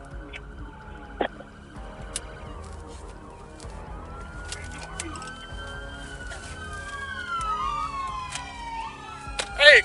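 Police car siren wailing during a roadside traffic stop, rising and falling in sweeping tones that grow stronger toward the end, over low rumble and scattered clicks, with voices talking faintly beneath.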